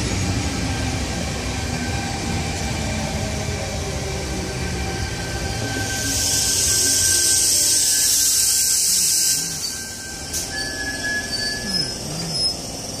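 A Sydney Tangara train pulls away from the platform at Allawah station with a loud, steady rumble of wheels and a sustained high metallic squeal that grows stronger midway before easing off.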